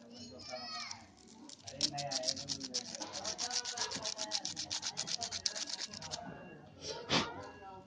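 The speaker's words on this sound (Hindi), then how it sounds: "इससे मैं पहले इस रेगमाल के टुकड़े से ये देखिए पहले मैं इसको सफाई कर लेता हूँ।" Sandpaper scrubs the contact points of an electric iron during a repair, a close, steady run of quick rasping strokes with a few brief pauses.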